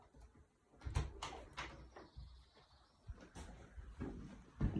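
A door into a small walk-in chiller room opening, with a series of knocks, thuds and latch clicks at close range over a quiet room hum.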